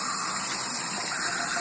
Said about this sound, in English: I rinse it with hot water.